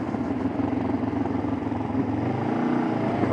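A motorcycle on the road produces a continuous close engine drone mixed with rushing wind noise, holding steady throughout.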